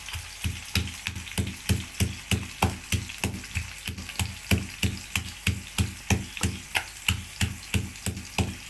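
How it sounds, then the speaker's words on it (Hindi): Green chillies pounded in a small mortar with a pestle while onions heat in oil for baingan bharta, a steady rhythm of close, even thuds about twice a second, alone without talk. "कुंडी छोटे में हम मिर्चें पीस लेंगे"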